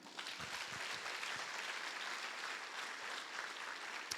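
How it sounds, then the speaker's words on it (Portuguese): A church congregation of several hundred people applauds, a dense, steady wash of clapping that holds at full strength throughout with no voices on top. "Você pode aplaudir o Senhor de novo?"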